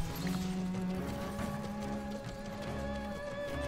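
Horse hooves clip-clopping in the medieval strategy game Stronghold Warlords, a steady busy trot over game music and ambience with no voices.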